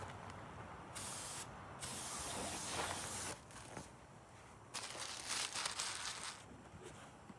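Aerosol brake cleaner sprays onto engine parts in a series of hissing bursts, short and long, close and loud, separated by brief quieter pauses.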